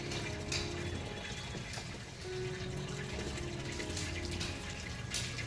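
Water poured onto soil where coriander seeds were scattered two days earlier in a small home garden, a steady close gushing and splashing stream running continuously with no talk.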